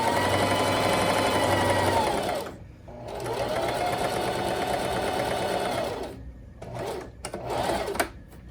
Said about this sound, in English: now just sewing a plain seam right down that fabric.